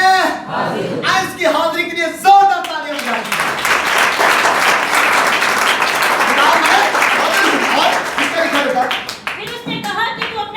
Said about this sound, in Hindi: मैं इसकी हाजिरी के लिए जोरदार तालियां बजाइए।